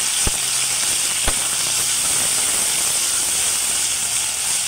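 Ginger garlic paste sizzling in hot oil for a dry chicken dish, a steady close frying hiss with a couple of faint knocks near the start.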